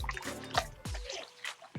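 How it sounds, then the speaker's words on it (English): A washcloth is wrung out and rinsed in a bowl of water, close by, producing a series of drips, trickles and squishy sloshes in uneven bursts. "I'm just rinsing it out in this bowl of water"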